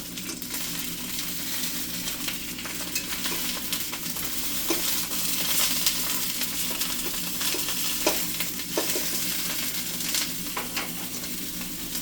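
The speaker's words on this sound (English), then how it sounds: "we're going to cook these sausages all the way through" Sausages frying in a pan, with a steady close sizzle and crackle running throughout plus occasional stirring clicks, and no talking.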